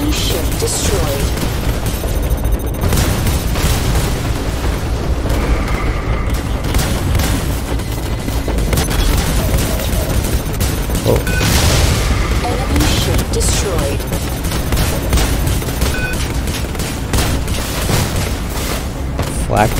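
Booming explosions and blasts of gunfire from an enemy ship being destroyed in the space combat video game Conflict of Stars, loud and dense throughout, mixed with game audio and voices.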